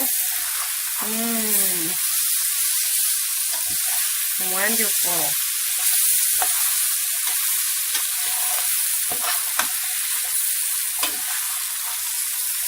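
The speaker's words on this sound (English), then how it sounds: "You hear that sizzle?" Loud, continuous sizzling of rice frying in a hot pan for Spanish rice, a steady bright hiss throughout, with someone briefly speaking over it and occasional stirring clicks.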